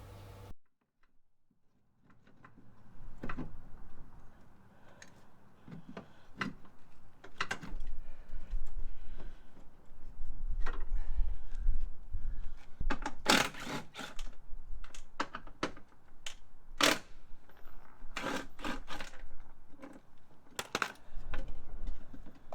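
Metallic ticks and sharp clicks of a wrench undoing the anti-roll bar link on a Mini Cooper while coilovers are fitted, irregular close taps over a low background rumble with no talk.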